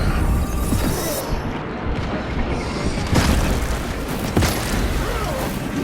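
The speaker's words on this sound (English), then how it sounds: "Another hit, and the core will detonate!" A core detonation explosion in the Warhammer 40000: Space Marine 2 video game, a dense, loud, sustained roar of blast and rumbling debris with heavier booms partway through.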